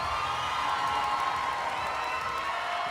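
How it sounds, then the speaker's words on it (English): A large audience at the Miss Teen USA 2022 final show applauds and cheers continuously, a dense wash of clapping with scattered whoops throughout. "How about a big round of applause for Brianna, please?"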